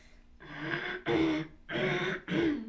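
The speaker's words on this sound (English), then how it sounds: "I keep clearing my throat on this" Someone clears their throat repeatedly up close, four rasping bursts in a row with short pauses between them.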